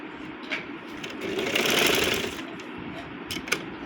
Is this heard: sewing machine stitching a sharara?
yes